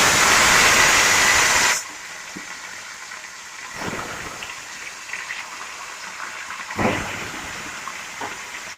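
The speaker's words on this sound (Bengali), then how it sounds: "তেল গরম হয়ে গেছে, এবার মাছগুলোকে দিয়ে দেবো।" Tilapia fish hitting hot oil in a pan, a loud burst of hissing sizzle at first, then a steadier crackling fry with occasional louder spatters.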